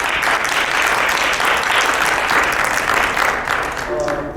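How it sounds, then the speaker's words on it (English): Audience at a religious harmony event applauds the committee with steady, dense clapping across the whole stretch, fading slightly at the end as a voice begins over it. "Could we please clap for the committee?"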